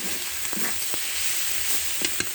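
Malabar spinach leaves with crab and green chilies sizzle steadily in a pan, a close, continuous frying hiss with a few light stirring taps and scrapes, no voices present.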